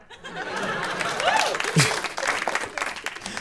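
A studio audience applauds and chuckles on a comedy panel show, with clapping building and mixing with laughter and people talking close by over it.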